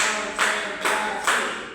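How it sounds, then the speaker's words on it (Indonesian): Rhythmic group clapping in a classroom during a microteaching lesson, three quick even bursts of hands in a steady beat, fairly close and clear with no voices over them. "Tepuk satu, tepuk dua, oke."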